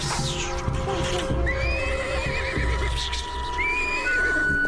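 A cartoon horse whinnies loudly several times, with shrill wavering neighs over hoof clops and busy background noise.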